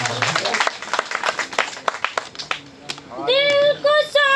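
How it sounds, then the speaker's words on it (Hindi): An audience at an All India Mushaira poetry gathering in Delhi claps in quick bursts for a few seconds, then a voice takes over, speaking or singing. "भाई जोरदार तालियां बजाओ।"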